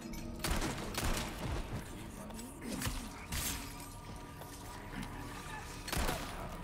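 Gunfire in the video game Resident Evil 4, heard as scattered, fairly quiet shots and thumps mixed with game sounds and effects, with talk over the top.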